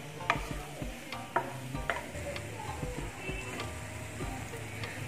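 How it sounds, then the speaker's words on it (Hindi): Egg bhurji fries in a pan under constant stirring, a low sizzle broken by repeated spatula clicks and scrapes against the metal in an uneven rhythm, up close and without talk. "अब इसे और पका लेंगे लगभग 1 मिनट के लिए और लगातार चलाते रहेंगे"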